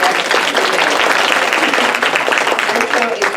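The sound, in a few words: audience applause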